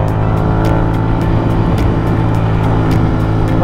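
Royal Enfield Continental GT 650 motorcycle with a stock 650cc engine, heard while riding on a wet road, gives a steady loud rumbling drone with wind and road noise and no talking.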